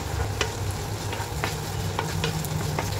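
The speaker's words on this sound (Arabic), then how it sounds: "هقلب كده لحد ما البصلة تدبل معايا." Small-diced onion fries in oil while being stirred, a close continuous sizzle broken by a few sharp spoon scrapes and taps against the pan, with no one speaking.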